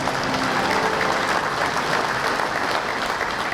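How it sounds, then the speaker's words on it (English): A large audience at an American Legion department convention bursts into dense, steady applause that fills the whole stretch loudly and evenly, with no talk over it. "Yeah, you can applaud for that."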